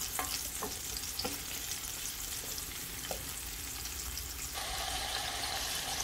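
Tuna frying in a pan of red curry with pepper flakes, a steady sizzle with a few stirring scrapes and clinks throughout, close and fairly loud, with no talking.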